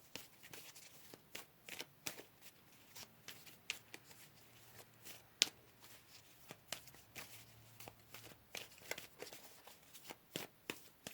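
Tarot cards are shuffled and pulled from the deck in soft, quick riffling flicks and taps, close and quiet, with no voice over them.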